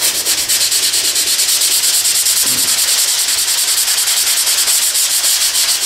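Sanding fiberglass body filler by hand with 180-grit paper: a steady, close rhythmic scrubbing of even back-and-forth strokes with no pauses and no talking.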